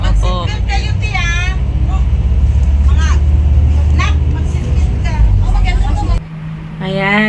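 A bus pulling away on a road in Taiwan, with a steady low engine rumble heard from inside the cabin while several people talk over it throughout.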